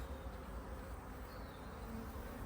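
Honey bees buzzing at a hive around the queen, a dense continuous hum heard close up, steady and fairly faint with no voices.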